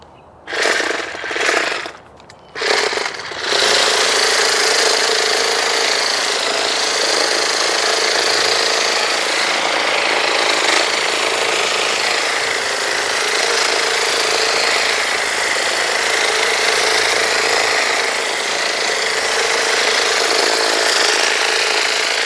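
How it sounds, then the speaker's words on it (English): An Echo eForce DPAS-2600 56V battery hedge trimmer attachment runs on its first setting, starting with a few short bursts and then holding a steady, loud, close whirring drone with no talk. "2600 with the Hedge trimmer attachment. I'm going to run this on setting 1."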